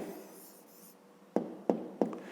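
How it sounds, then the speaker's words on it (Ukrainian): A pen writes an answer into a school notebook during a fifth-grade maths exercise, giving soft scratchy strokes and then three sharp taps or strokes in a row, close and quiet, with no talking. "Записуємо тоді відповідь."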